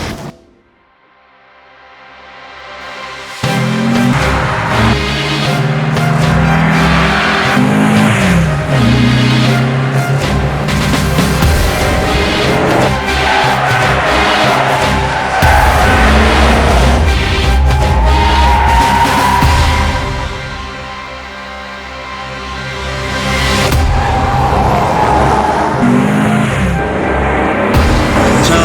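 A Kia K3 engine roars as it accelerates hard on a race circuit past 100-110 km/h, the pitch climbing through gears over a long stretch, loud and close with occasional shouts.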